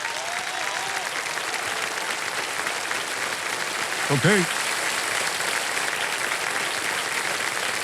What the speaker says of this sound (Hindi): अच्छा ये कुर्सी पे ताली बजते रहे इनके लिए।